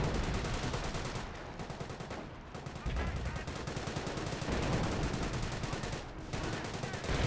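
British sector overwatch artillery in Company of Heroes, heard as continuous rapid gunfire with booming impacts and dense battle clatter, with brief lulls between volleys.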